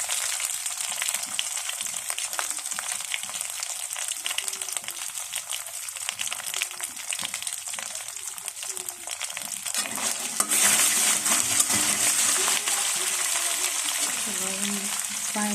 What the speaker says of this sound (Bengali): এটা মশলা দিয়ে একটু ভেজে নেওয়ার পরে